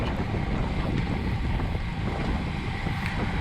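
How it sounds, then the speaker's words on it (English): Strong wind buffets a rider during a bike race, a loud continuous roar of gusting air and microphone wind noise with no other sounds standing out. "the wind is coming from the right"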